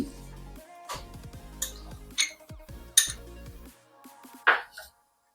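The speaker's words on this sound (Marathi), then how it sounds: "आता हे सगळं मिक्स करून घेणार आहोत" Gopalkala ingredients such as curd, salt, cumin powder and coriander being mixed with utensils in a bowl, giving a few scattered clinks and scraping knocks, close and fairly light, without speech.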